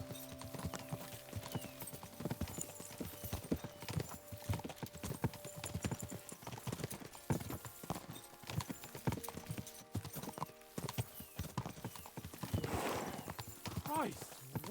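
Rapid hoofbeats clatter continuously as horses gallop in the video game Kingdom Come: Deliverance II, with occasional whinnies and a busy rumbling background throughout.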